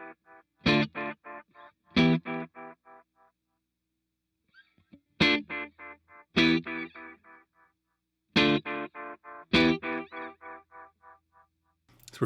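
A guitar delay pedal with distortion and high feedback nearing self-oscillation: three bursts of chords, each trailing off in a string of fast decaying repeats, with silent gaps between.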